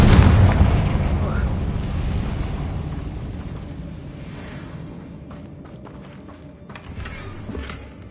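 A Confringo blasting spell explodes in Hogwarts Legacy on PS5, a loud booming burst up front that decays into a long rumbling tail with faint crackles, while a voice calls out over the blast.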